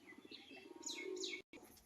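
Close pigeons, including a male, coo in soft, throaty rolls mixed with faint chirps, a brief burst of cooing cut by a short silence.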